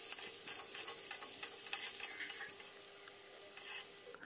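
Potatoes and cauliflower fry in oil left over from frying fish, a faint steady hiss of sizzling with light stirring scrapes and small clinks.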